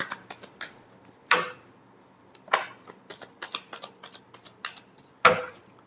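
Tarot cards being shuffled by hand, a series of sharp riffling snaps and soft taps at irregular intervals, close and fairly quiet with no talk.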